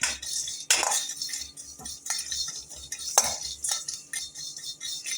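Black cumin, cumin, fennel and pepper dry-roast in a pan over low flame, a spoon scraping and stirring with occasional sharp clinks of metal against the pan, close and fairly quiet, no talking.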